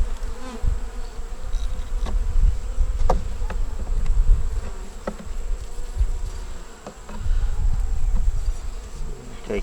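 Dense, continuous buzzing of many honey bees swarming close by at an open hive during a frame inspection, with scattered clicks and bumps underneath.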